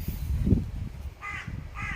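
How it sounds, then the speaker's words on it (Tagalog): A crow caws twice, harsh and fairly near, over a low outdoor rumble of wind and handling noise. "Ayan, may uwak."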